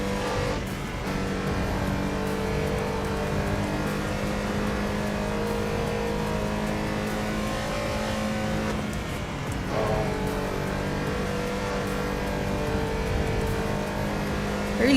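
Ferrari race car in Assetto Corsa Evo at the Nurburgring, its engine holding a loud steady high rev with a brief dip and climb partway through, continuous and unbroken without speech.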